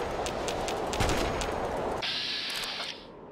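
Rapid gunfire in Fallout 3: bursts of repeated shots with a heavier blast about a second in, followed by a high sustained whine, loud and close throughout.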